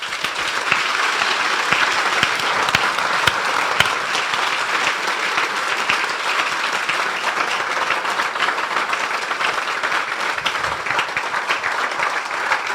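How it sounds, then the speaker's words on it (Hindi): Large crowd at a revival convention gives a long, steady round of applause for the Lord, dense clapping running unbroken for over twelve seconds without speech. "आइए हम अपने प्रभु के लिए एक अच्छी ताली बजाएंगे"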